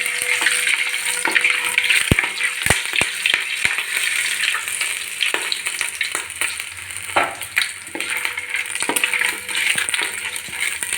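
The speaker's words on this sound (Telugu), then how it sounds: "నెయ్యి వేసి ఇలాచీ, లవంగం, చెక్క అండి అన్నీ వేసి వేగాలండి" Cardamom, cloves and cinnamon fry in ghee in a large pot, crackling and sizzling steadily up close. Sharp clinks and scraping stir strokes break in now and then, and no one speaks.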